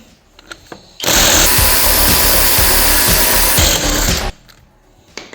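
A Dnipro-M DTW 202 BC cordless impact wrench in a service garage runs loud and continuous for about three seconds, a steady hammering buzz loosening a tight wheel nut, then cuts off to near silence.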